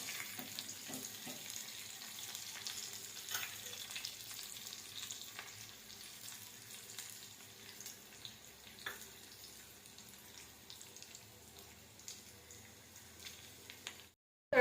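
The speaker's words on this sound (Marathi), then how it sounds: "जिरा आणि मोहरी तडतडली की त्यामध्ये" A dhokla tempering of cumin, mustard seeds, curry leaves and green chili crackling in oil, heard as a soft, steady sizzle with scattered pops that fades gradually before cutting off.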